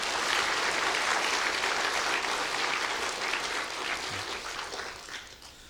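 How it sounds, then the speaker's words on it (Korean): A church congregation claps steadily in a room, a dense wash of applause that gradually thins and fades toward the end. "오늘 이분들을 위해서 박수로 크게 환영해 주시기 바랍니다."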